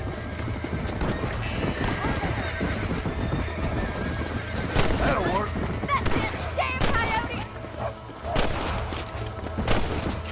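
A horse gallops with rapid clip-clop hoofbeats and whinnies in the Western video game Red Dead Redemption, loud and close, while someone talks over the busy game sounds.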